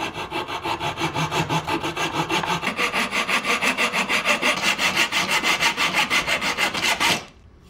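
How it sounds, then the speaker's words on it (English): A hand saw cuts a small slot in a half-inch wooden dowel in fast, even back-and-forth strokes, close and rhythmic, then stops suddenly near the end. "the next thing is to cut a small slot"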